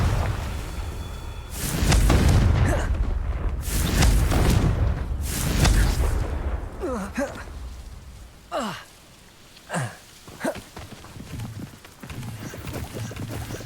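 Booming fire-spell blasts from the video game Hogwarts Legacy: three heavy explosive bursts in quick succession, loud and rumbling, followed by fainter crackling impacts and debris as the blasts die away.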